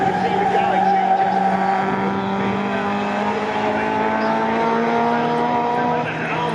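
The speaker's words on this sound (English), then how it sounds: "Just endless tyre squeal from everything out there." Tyres squeal continuously from pre-1966 touring cars racing hard at Silverstone, among them a Ford Galaxie, a sustained loud screech with engine roar underneath and a commentator talking over it.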